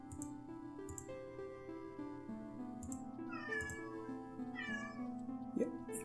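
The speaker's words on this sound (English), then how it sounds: "I have a very vocal cat" A house cat meows twice in the room, clear and fairly near, over quiet game music and faint background noise; nobody talks during it.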